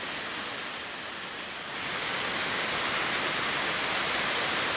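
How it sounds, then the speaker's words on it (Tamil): Heavy rain driven by strong wind roars as a dense, steady wash of noise that swells slightly louder partway through, with no thunder. "செம்ம காற்றோட மழை பெய்யுது"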